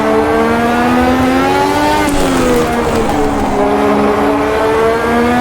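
A race car engine in the Automobilista 2 racing game screams loud and continuous, holding at the rev limiter, dipping briefly, then climbing again in dense harmonic howl with no talking.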